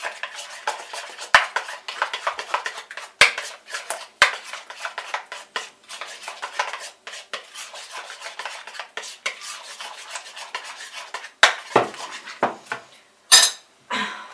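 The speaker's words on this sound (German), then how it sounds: "Durchmischen." Red cabbage salad being tossed with Italian herbs in a bowl gives close, steady scraping and clinking of a utensil against the dish, with a few sharper knocks and a squeaky rub near the end.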